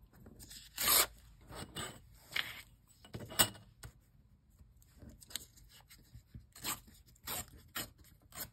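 A paper paint swatch is torn in a series of short, crisp bursts separated by brief pauses. The ripping is close and fairly loud, with no voices.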